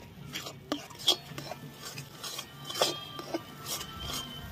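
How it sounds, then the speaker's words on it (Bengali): Spoon scraping and clinking in a pan while an eggplant and egg mixture for begun mogoji is stirred, with irregular soft scrapes and a few sharper metallic knocks, fairly quiet and close. "এইভাবে 2 থেকে 3 মিনিট নাড়াচাড়া করবে।"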